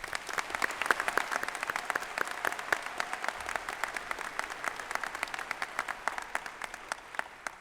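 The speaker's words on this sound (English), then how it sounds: "Let's give another round of applause" Applause from a commencement crowd at a graduation ceremony, with many distinct claps sounding sharply over a steady patter that thins slightly toward the end, heard from a little distance.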